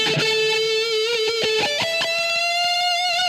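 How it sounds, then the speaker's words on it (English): Electric guitar played through a Headrush pedalboard into an ENGL Powerball 2 amp with heavy echo, sustained notes and repeated picked attacks trailing off in thick repeats, loud and alone. "It's too much echo."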